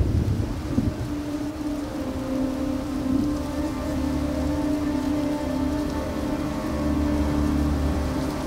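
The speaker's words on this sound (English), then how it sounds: "The rains are coming." Rain falls steadily on open grassland as a storm arrives, giving a continuous hiss with low rumbling underneath and no voices.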